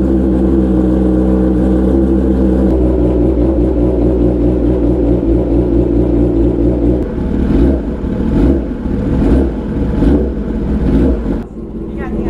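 A 2022 Kawasaki ZX10R with an SC Project exhaust drones loudly and close, then settles into uneven, sputtering pulses, with talk heard partway.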